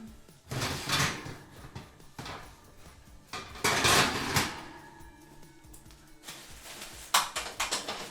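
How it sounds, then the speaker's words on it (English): A metal oven rack scrapes and clanks as it slides inside a kitchen oven, with several loud, close bursts of rattling separated by quieter handling noises. "And of course, I forgot to move the rack down."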